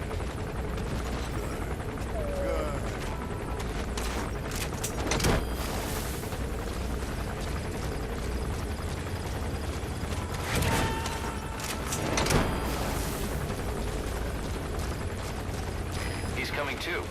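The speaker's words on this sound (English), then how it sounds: "That chopper is really making me paranoid." Helicopter flying in Metal Gear Solid V: The Phantom Pain, a steady rotor drone that continues throughout, mixed with game sound effects and a few dull booms, while someone talks over it.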